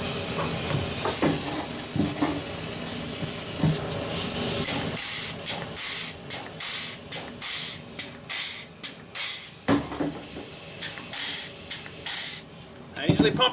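Grease gun pumping grease into the wheel spindle of a sweeper during maintenance, heard as steady close hissing that breaks into a run of regular, rhythmic spurts and squirts.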